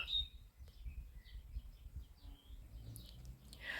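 Faint birdsong chirps and trills drift in from a distance on a spring morning in a flower garden, scattered over a quiet outdoor background with soft rustling.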